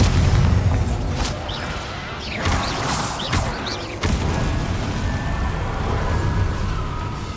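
In the Hogwarts Legacy video game, a Bombarda spell fires repeated heavy booms and blasts over a dense, rumbling battle din that continues throughout.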